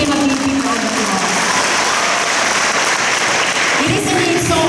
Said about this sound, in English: So we give them a big round of applause.